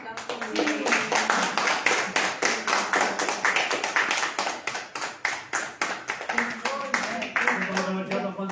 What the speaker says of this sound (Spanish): Pues démosle un aplauso.